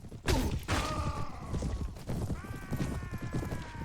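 Clip-clop of horse hooves in Mount & Blade Warband, rapid overlapping thuds with some clanking and a ringing tone, fairly faint and steady throughout.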